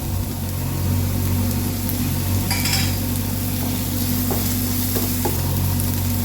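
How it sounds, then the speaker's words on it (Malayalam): Ginger and green chillies sauté in a pan with a loud, continuous sizzle and occasional stirring scrapes, over a steady low mechanical hum. "ഇത് നമുക്ക് നല്ലോണം വഴറ്റി കൊടുക്കാം"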